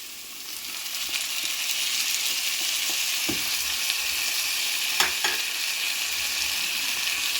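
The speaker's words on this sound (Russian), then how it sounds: "немножко лук-чеснок поджарился. Вот теперь можно добавить помидоры." Onion and garlic sizzle steadily in a frying pan; tomatoes are then added, bringing a couple of sharper crackling bursts over the continuous close frying hiss.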